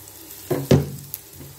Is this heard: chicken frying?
yes